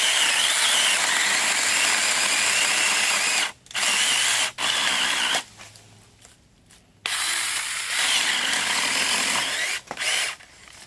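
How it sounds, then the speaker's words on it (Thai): A small battery-powered saw cuts through old culms of a giant bamboo clump in long, loud buzzing bursts, stopping briefly several times before starting up again. "ใช้เลื่อยแบบแบตเตอรี่นะคะ"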